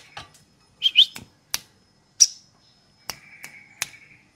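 A caged Prinia warbler gives scattered sharp chirps, squeaky whistles and buzzy trills in short bursts with gaps between, close and fairly faint in a quiet setting.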